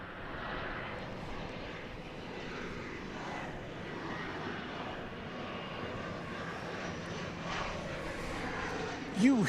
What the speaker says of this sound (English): an E-jet arriving from Aguas Calientes in Mexico.